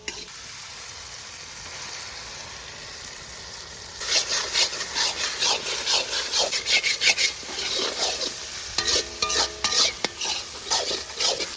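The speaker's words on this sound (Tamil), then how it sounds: "நம்ம இஞ்சி பூண்டு பேஸ்ட் அதில் போட்டுக்க போகிறோம்" Ginger garlic paste stirred into sautéed tomato and onion for a Kerala-style beef curry, a quiet sizzle first, then repeated scraping and stirring strokes of a spoon in the pan, close and fairly loud.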